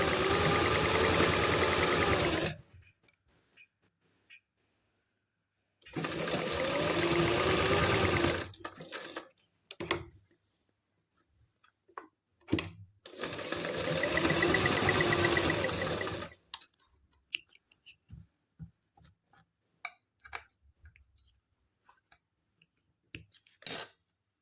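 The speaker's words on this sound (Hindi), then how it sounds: "ये देखिएगा, मैं सिलाई लगा रही हूँ।" Palazzo pants being stitched on a sewing machine along marked lines, the motor whirring in three loud bursts of a few seconds each, separated by quiet pauses with light clicks and handling noises.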